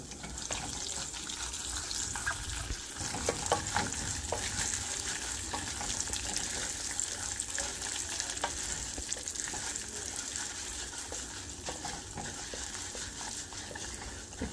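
Urad dal fries in hot oil in a pan for South Indian lemon rice, with a steady, close sizzle and crackle that runs throughout, broken by scraping stirs and occasional spoon clinks.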